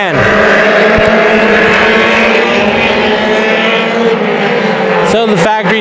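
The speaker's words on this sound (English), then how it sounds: "You can hear the front-wheel drive car." Front-wheel drive four-cylinder factory stock mini stock race car at Havasu 95 Speedway, a third-mile oval; loud, close, sustained engine drone with a steady pitch, shifting sharply near the end as the car passes.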